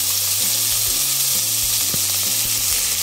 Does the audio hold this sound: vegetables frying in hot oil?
yes